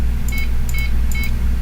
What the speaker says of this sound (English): The beep speaker in the computer,